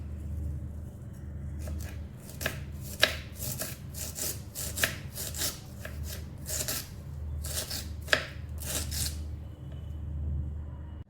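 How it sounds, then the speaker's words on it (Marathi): Knife cutting radish leaves on a board in a home kitchen, a run of quick crisp chops in uneven bursts over a steady low hum, close and fairly clear, with no talking. "मुळ्याची पाने कापून घेऊया।"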